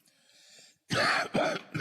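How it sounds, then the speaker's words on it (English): A person gives a couple of loud, close, harsh coughs after a brief quiet pause, in a short burst of two rough bursts. "I'm sorry about coughing in your ear"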